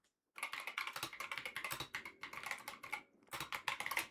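Rapid clicking keystrokes on a computer keyboard come in close, dense bursts with a short pause near the start and another brief gap toward the end.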